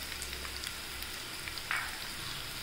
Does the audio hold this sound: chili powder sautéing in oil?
yes